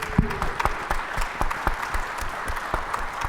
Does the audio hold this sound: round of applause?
yes